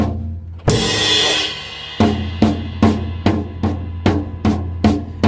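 Light drum taps on a kit, played as soft evenly spaced hits after an opening louder hit, about nine taps in a steady triplet-like rhythm, close and alone.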